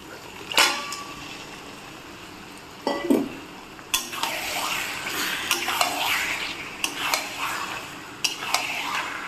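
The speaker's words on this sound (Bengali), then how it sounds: "আমি যতক্ষণে চিকেনটা কষাচ্ছি" Chicken being stirred and sautéed in oily masala in a pan, with scattered scrapes and clinks of a spoon against the pot over a low sizzle.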